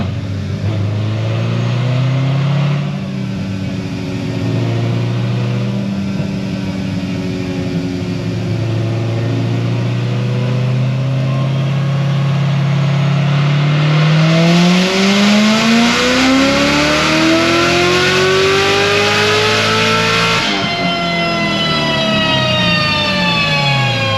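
A tuned Stage 4 Corvette C7 Z06 V8 on a dyno roars loud and close through a long full-throttle pull, its pitch climbing steadily to a high scream before cutting off and winding back down.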